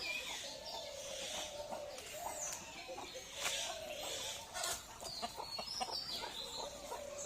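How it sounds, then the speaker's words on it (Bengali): Free-range chickens on a village farm cluck and call, with pigeons cooing among them. The bird calls are scattered and fairly faint against light outdoor background, and no one speaks. "আমি এভাবেই প্রাকৃতিকভাবে মুরগি সে পালন করে থাকি"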